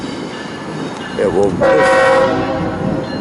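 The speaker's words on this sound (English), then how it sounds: "Q300 is now coming out of Woodbourne Station onto the main here" Freight train Q300 pulling out of Woodbourne Station onto the Trenton Sub main line, its horn blaring briefly and loud over rolling rumble as it moves out; a voice speaks briefly at the start.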